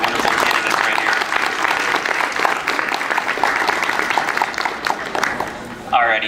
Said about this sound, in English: Can we please give a round of applause for our wonderful candidates right here?